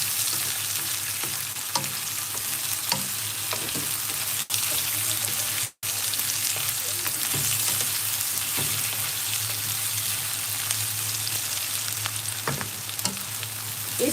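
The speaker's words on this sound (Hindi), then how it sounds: "इस तरह से आप चलाते रहें ताकि ये अच्छी तरह से सॉफ्ट हो जाए" Vegetables fry in a pan for soyabean masala pasta, a continuous loud sizzle broken by repeated scraping and clattering as they are stirred, with a brief dropout partway through and no talk.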